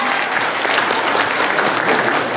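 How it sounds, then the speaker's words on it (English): A convention panel audience bursts into warm applause for a question, a brief, dense wash of clapping hands, close and loud, with no talking over it. "Round of applause for that question."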